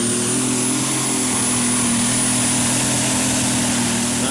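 A six-cylinder methanol-injected International engine in a pulling tractor at a tractor pulling championship in Brande, Denmark, running loud and steady with a sustained roar and a high whine, running a bit rough, alone without talk.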